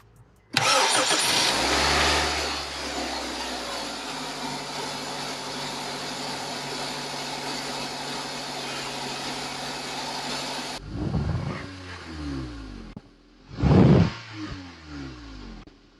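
A car fitted with a new airbox cranks and fires up, settling into a loud steady idle, then shuts off and is restarted with a short sharp rev that drops back down.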